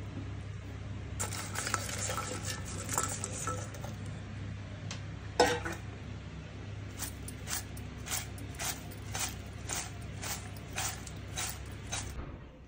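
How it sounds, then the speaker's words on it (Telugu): Fried okra tossed in a metal bowl for a cashew okra fry, giving a run of light clinks and scraping taps, some sharp knocks midway, then steady rhythmic clinking over a low hum. "ఇలా మొత్తం బెండకాయల్ని వేయించుకుని మనం తీసుకున్న బౌల్లో మిక్స్ చేసుకోండి"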